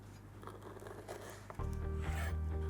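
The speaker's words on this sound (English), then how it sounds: "I'll cut it into perfect brownie rectangles" A knife slicing through a rum and raisin brownie slice, giving a soft close scraping rub that steadies and grows slightly louder partway through, with no talking.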